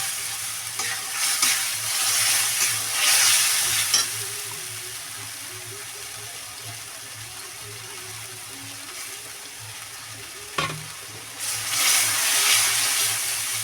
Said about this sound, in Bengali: আর পেঁয়াজ আর একটু আদা ভালো করে একটু কষিয়ে নেবো